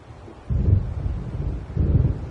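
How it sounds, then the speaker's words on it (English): Deep rolling thunder from an approaching storm in the video game Alan Wake swells in suddenly and rumbles on with a second surge, loud and close, with no voices. "It seems there's a storm coming."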